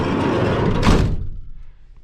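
A Ford Econoline E350 camper van's sliding side door rolls shut, a close rumbling slide ending in a solid thunk, followed by quieter settling noise.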